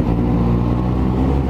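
A Suzuki GSX-S750 motorcycle engine drones loud and steady while riding on a road near Cabo Frio, with a continuous low rumble close by and no breaks or voices.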